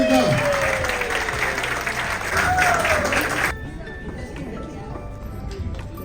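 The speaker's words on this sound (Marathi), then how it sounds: "एकदम बरोबर टाळ्या होऊन जाते का?" Applause at a Maharashtra Day celebration in Riyadh, Saudi Arabia: a crowd claps loudly and densely for about three and a half seconds, then it breaks off into a quieter room with scattered claps and murmuring.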